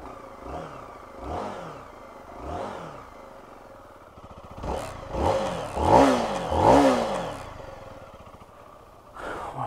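A Zontes T310 single-cylinder trail motorcycle starts and revs up close, the engine rising and falling in repeated blips that grow louder and rougher toward the end, with no talk over it.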